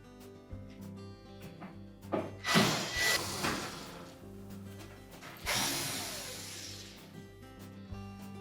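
Screws being backed out of the front corners of a Whirlpool range cooktop, with mechanical ratcheting and clicking, two louder bursts of driver noise and scraping over a steady low hum, no talking.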